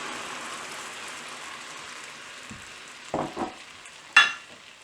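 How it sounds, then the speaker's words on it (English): Tomato puree hitting a hot pan, already used for stir-frying a jackfruit filling, gives a steady broad sizzle with a few louder spits and bursts near the end. "So when the pan gets nice and hot, add our tomato puree."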